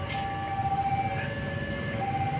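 A railway level crossing warning bell rings steadily with a sustained high tone, close by amid outdoor rumble near Walahar on a busy line.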